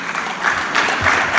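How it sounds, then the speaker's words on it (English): Audience applause for the panelists at an employment summit session in Lagos, a brief, steady wash of clapping from a hall crowd, fairly loud with no voices over it. "thank you for the applause for the panelists"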